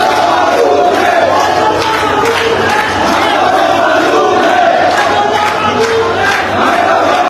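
A large crowd chants slogans outside a hospital, a dense, loud, continuous roar of many voices from start to finish with no single speaker standing out.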